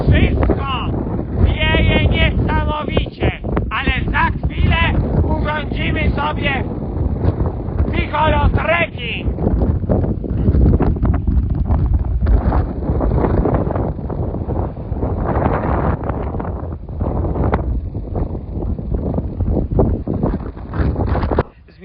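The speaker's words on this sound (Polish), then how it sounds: "Niestety dzisiaj jest straszne wietrze." Strong wind buffets the microphone with loud, rushing gusts on an exposed spot beside a karst sinkhole in southern Italy, while a person talks over it for much of the time.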